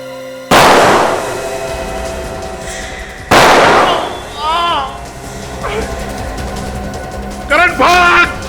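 Two loud, sharp gunshots ring out with long echoing decays in a Hindi TV crime drama, the second about three seconds after the first, followed by shouted voices.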